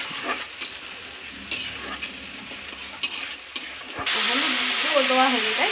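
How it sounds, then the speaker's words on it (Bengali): Onions frying in a pan give a steady, close sizzle and hiss with a few scraping stirs, and the sizzle gets louder toward the end. "পেঁয়াজ ভাজা হচ্ছে"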